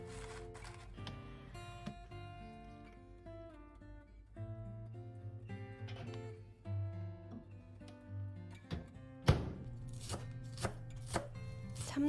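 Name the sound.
cutting chamnamul stems and leaves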